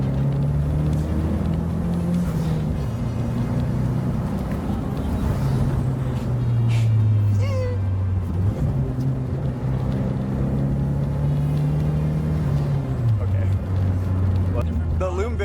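A car engine held at high revs in second gear, a steady droning tone that rises and drops in steps as the throttle changes, heard from inside the cabin under ongoing conversation.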